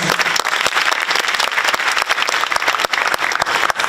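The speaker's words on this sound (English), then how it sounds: "Could we please give Dr. Ko a big hand of applause?" Audience applause for a keynote speaker at a university sport world conference, dense and steady clapping from a large crowd throughout, fairly loud and close.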